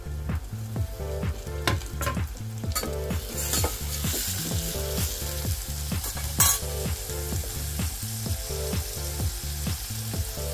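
Onion and tomato frying in a pan for egg bhurji curry: an even sizzle under quick rhythmic stirring scrapes, close and steady, with one sharper clatter partway through and no speech.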